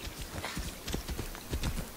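Rhythmic clip-clop of horse hooves at a steady trot in Assassin's Creed Odyssey, close and moderately loud, with no talking.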